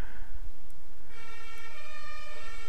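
Ambulance siren in the Sim Airport management game: a steady multi-tone wail starts abruptly about a third of the way in and holds loud to the end over a noisy game background.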